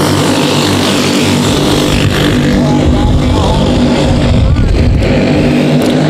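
Stock cars in a clone-engine heavy race at SugarTit Speedway roar at full throttle in a loud, continuous engine drone, with an announcer's voice running over the noise.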